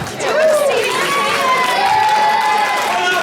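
Crowd chatter fills a room at a football and cheerleading boys club banquet, a dense, steady murmur of many voices with children shouting over it throughout.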